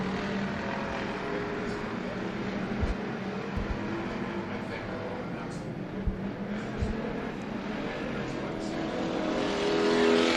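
Stock cars in the American Stock Division racing on the dirt track at Bakersfield Speedway, with a continuous distant engine roar that swells as the field passes, under a crowd and announcer's voice.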